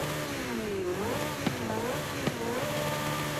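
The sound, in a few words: Porsche RSR race car engine in video game sound check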